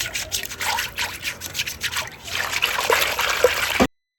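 Milk mix for calves is whisked in a container, giving quick, irregular liquid splashes and sloshing that grow busier and louder toward the end before stopping abruptly.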